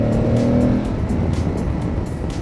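An Aprilia Tuareg 660 motorcycle engine runs close by with a loud, steady, smooth drone, with no talking over it.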